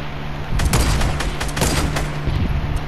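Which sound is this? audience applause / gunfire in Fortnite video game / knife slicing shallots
gunfire in Fortnite video game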